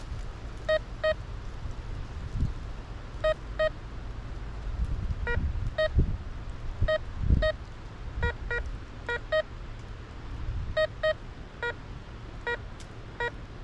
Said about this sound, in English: So it's still beeping, but if you listen to it, it's not completely repeatable.